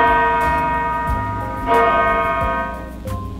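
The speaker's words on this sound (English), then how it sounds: "When the larger one is struck, the result will be low energy sound waves." A large bell struck, ringing with a rich low hum and sustained overtones, with further strikes layering in as the tone decays, close and loud with no talk.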